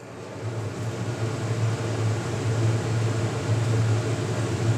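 A kitchen chimney exhaust fan runs steadily above a heated wok while greens are being cooked, giving a constant low mechanical hum under an airy hiss with no talking.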